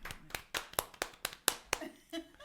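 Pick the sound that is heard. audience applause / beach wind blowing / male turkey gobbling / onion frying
audience applause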